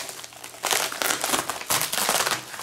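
BlackBerry Curve 8900 box packaging being opened, with loud bursts of crinkling and tearing paper and plastic close to the microphone, in several irregular rushes.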